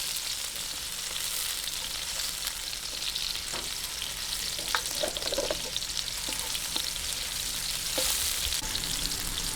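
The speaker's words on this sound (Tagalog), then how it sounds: "Isagisahin lang po natin." Sautéing aromatics in a pan for a Filipino vegetable lumpia filling makes a continuous bright sizzle and crackle, with occasional spatula scrapes and taps, close and steady with no talking.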